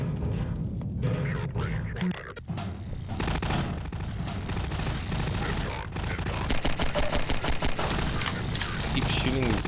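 Sustained rapid gunfire in Half-Life 2, bursts of automatic shots cracking densely over several seconds with a steady rattling rhythm, loud and close, with a voice talking over parts of it.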